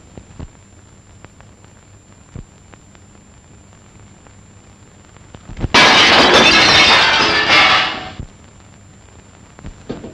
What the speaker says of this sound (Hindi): शीशा किसने तोड़ा?